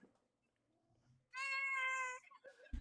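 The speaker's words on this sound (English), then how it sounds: "I woke my cat up from a nap." A pet cat named Boots meows after being roused from a nap, letting out one sustained, loud, tonal meow that trails into softer rustling and a short final chirp; no speech.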